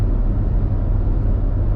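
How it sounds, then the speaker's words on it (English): Steady, loud roar of a car passing at about 145 on an interstate highway, a dense low rumble of engine and tire noise with rushing wind, constant and close throughout with no voices. "This car passing me is running about 145."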